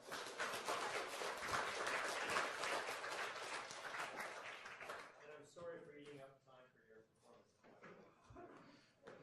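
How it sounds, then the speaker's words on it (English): Lecture audience applauding Robert for his timeline, a dense crowd clapping that starts loud and fades over several seconds, with a few voices emerging as it dies down. "I think maybe the applause should go to Robert for that timeline."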